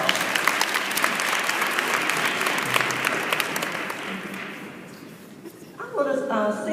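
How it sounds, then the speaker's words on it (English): A school audience at a Martin Luther King Jr. celebration breaks into loud, sustained applause that slowly fades, with a voice coming in at the end. "Give yourself a round of applause"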